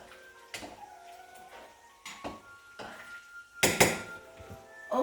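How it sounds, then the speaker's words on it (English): A spoon scrapes and knocks against a pot while stew is stirred, a few sharp metallic clinks spaced irregularly over quiet background. "and I'm going to stir it up."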